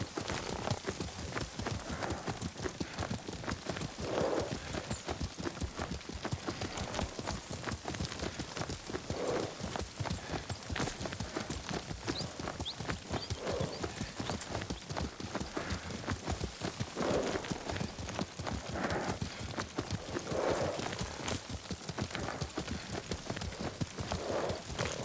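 Horse hooves clip-clopping at a steady ride in Ghost of Tsushima, the game's feudal Japanese countryside, a continuous rhythmic gait under a constant outdoor bed with no talk.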